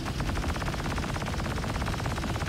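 A starship's machine gun in the Star Citizen space combat game fires in one unbroken, rapid stream of loud, evenly spaced shots that runs through the whole stretch with no pause.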